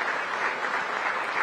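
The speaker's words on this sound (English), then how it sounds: "give us 2 rounds of applause, one for Angola" A brief burst of steady audience applause at a summit of heads of state and government, moderately distant and even throughout.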